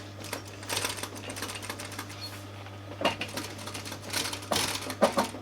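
Sewing machine top stitching camper cushion fabric, in short bursts of rapid needle clatter separated by quiet pauses, against a faint steady hum.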